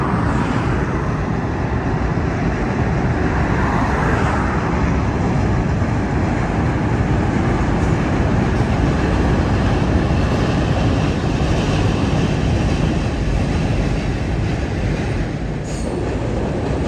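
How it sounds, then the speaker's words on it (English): A train crosses an old steel trestle bridge in Greenville, South Carolina, rumbling loud and continuous at close range, with metallic hissing and faint squeals from the wheels on the tracks. "The rumbling of steel and hissing of tracks alerted me to a swiftly approaching train"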